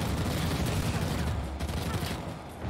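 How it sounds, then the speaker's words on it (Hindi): Rapid, continuous gunfire bursts in an Indian history-themed action video game, a dense rattling fusillade that stays fairly even before thinning slightly at the end. "ये गोलियां बरसा रहा है साला."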